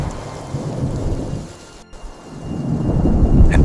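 Thunderstorm with heavy rain on surfaces and rolling thunder, loud and close; the rumble eases briefly midway, then swells again with a sharp crack near the end.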